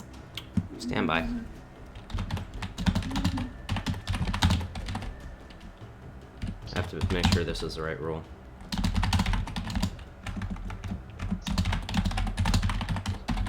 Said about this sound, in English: Yes, I know my keyboard is loud as shit.